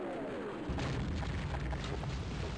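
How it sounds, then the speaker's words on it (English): Airstrike explosions in Half-Life 1 roll out as a continuous dull, muffled boom and rumble, fairly faint and distant, with a steady low-end roar and no talk. "They're still dropping airstrikes"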